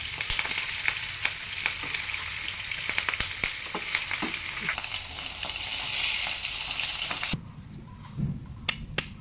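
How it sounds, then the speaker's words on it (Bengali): Rui fish heads coated in turmeric fry in mustard oil, a dense loud crackling sizzle with sharp spattering pops that drops suddenly to a quieter hiss near the end, followed by a few clicks. "এগুলো একটু ভেজে নেব, তারপর ডালের মধ্যে দেবো"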